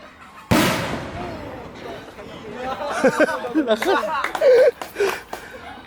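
A giant whistle bomb firework bursts with a sharp, loud crack near the start, followed by people chattering and laughing close by as the noise fades.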